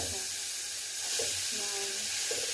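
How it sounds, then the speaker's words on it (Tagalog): Minced beef for samosa filling fries in a hot pan with a steady, close broadband sizzle, joined by faint stirring scrapes. "Kasi lulutuin natin yung minced beef."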